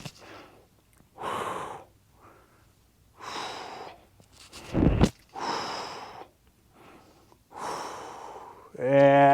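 Heavy rhythmic breathing during a kettlebell and stick mobility upper-body workout, about four long exhales in a steady cycle, close and fairly loud, with a brief sharp noise in the middle and a short tonal sound at the end.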